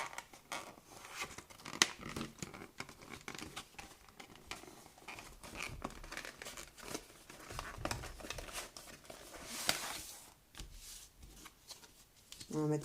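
Cardboard box of a Lego Ninjago set being carefully opened by hand, with steady scraping, tearing and crinkling of packaging, a few sharp snaps, and a voice speaking over parts of it.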